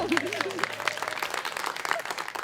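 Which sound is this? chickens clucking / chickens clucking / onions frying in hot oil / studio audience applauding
studio audience applauding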